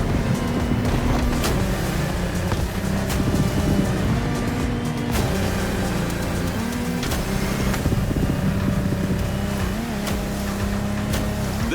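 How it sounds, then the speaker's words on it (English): A large offshore motorboat, including the Lamborghini Technomar, powers across open sea in the racing video game The Crew Motorfest, its engine droning steadily and loudly throughout, with changing pitch and splashing water. "This time we're going offshore with way bigger boats, including the incredible Lamborghini Technomar."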